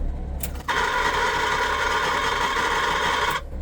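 A worn heater blower motor in a 1967 Plymouth Barracuda switches on and runs as a steady, harsh whirring drone for about three seconds, close and loud, then cuts off, with no talking.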